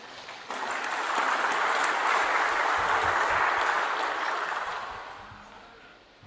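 A crowd at an Indonesian political party declaration event starts applauding after a short pause, the clapping swells and holds, then gradually tapers off toward the end.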